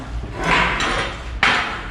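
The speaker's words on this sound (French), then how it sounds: "on prend le marteau à piquer" A pointed chipping hammer knocks slag off a fresh weld bead in a welding lesson, giving a couple of sharp metallic knocks close by, with a louder strike near the end.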